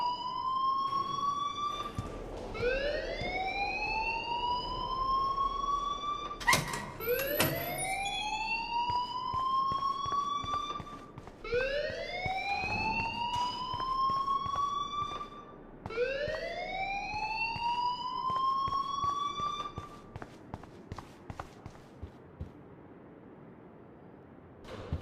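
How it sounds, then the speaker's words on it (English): An electronic alarm wails in the Life Is Strange video game, a repeating rising siren-like tone in several long sweeps, loud and steady with no talking over it. "please turn off that alarm since that's your job"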